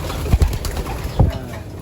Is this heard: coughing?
no